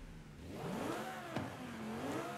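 A Lamborghini Huracan's engine in Forza Horizon 5, set up as an all-wheel-drive rally build, revs up and falls back in smooth sweeping pitch swells, steady and fairly close, with no talk over it.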